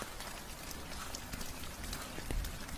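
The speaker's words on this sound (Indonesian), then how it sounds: "Hujan di luar semakin deras dan tak ada tanda-tanda untuk mereda." Heavy rain falls steadily outdoors at night, a soft continuous hiss of drops with occasional louder patters and a low thud near the end, fairly quiet and with no voices.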